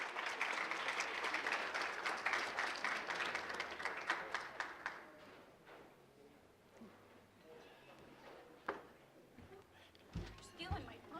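Audience applause at the Elmhurst Chamber's 94th annual awards gala, a dense burst of clapping for the first five seconds that thins into scattered claps and murmuring voices in a large room.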